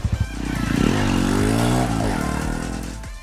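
A TVS Radeon 110 commuter motorcycle engine running close by, a steady low thrum that swells briefly as if blipped, then settles back toward idle, heard alone without talk.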